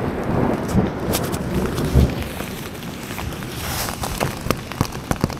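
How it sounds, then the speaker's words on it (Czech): A thunderstorm in a forest with steady heavy rain hissing on the surroundings, a deep thunder rumble swelling early on, and sharp close drops or crackles punctuating the downpour, loud and continuous throughout. "Takže tuhle bouřku asi musím přečkat v lese."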